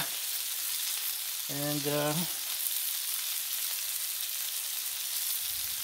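Meatloaf cooks in bacon fat on a Blackstone griddle, a steady, fairly loud hiss of sizzling grease that runs throughout, with one brief spoken word over it.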